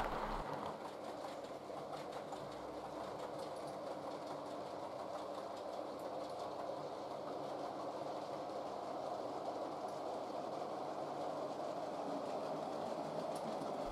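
A 1958 passenger train on the East Coast Main Line, hauled by locomotive 60506 Wolf of Badenoch, rumbles steadily past with a continuous broad roar and faint rhythmic clatter of wheels, loud and close throughout.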